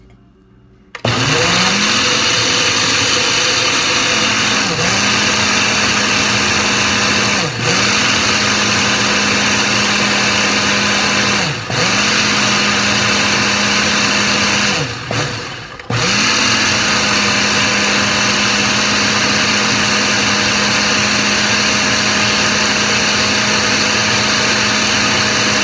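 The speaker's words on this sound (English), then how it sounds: "I'm gonna blend this. Okay, gotta turn it on first." An electric blender runs loudly and continuously, blending fruit into a green juice. It whirs at a steady high pitch, briefly dipping and surging back several times as the load shifts.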